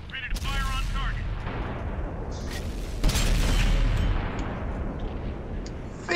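Tank cannon fire in World of Tanks: deep booming shots with rumbling tails, one near the start and a heavier blast around the middle, over continuous engine rumble with people talking.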